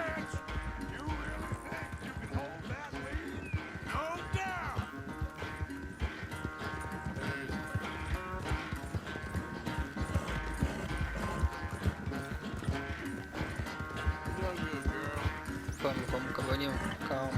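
A horse galloping in the video game Red Dead Redemption 2, rapid rhythmic hoofbeats running steadily under someone talking and game music.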